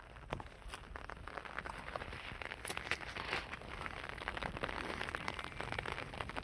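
Steady patter of rain falling on a surface, dense crackly drops at an even level throughout, with no voices.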